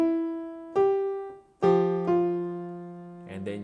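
Solo piano phrase from When the Saints Go Marching In, a few sustained notes struck one after another with ringing harmonics, close and clear with no talking.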